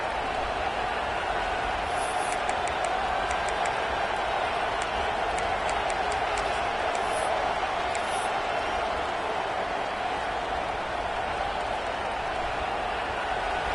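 A steady, broadband roar from a football stadium crowd fills the whole stretch, continuous and fairly loud, with faint whistles or cheers poking through near the start and again later.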